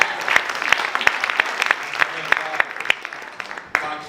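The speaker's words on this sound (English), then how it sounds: "So please give it up for Michael for making that happen" Audience applause at a stand-up comedy show at the Malibu Playhouse: steady, dense clapping that stays loud throughout, with a few sharper claps near the end.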